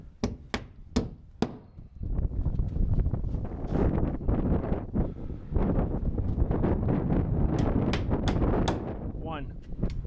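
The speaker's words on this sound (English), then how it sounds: "it's a little windy today" Heavy wind buffets the microphone in a constant low roar, preceded by a few sharp knocking hits at the start.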